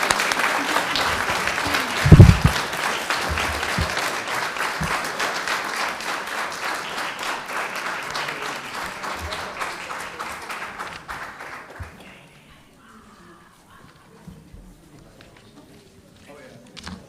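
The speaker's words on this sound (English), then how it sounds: "if we'll give them one more round of applause," Audience at a school board business meeting applauds certificate recipients, steady clapping that fills the room for about twelve seconds before fading to near quiet.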